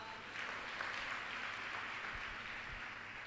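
A church congregation clapping at a Krupa Ministries service in Guntur, a soft, steady patter of many hands from across the room, fairly faint, with a couple of low thumps.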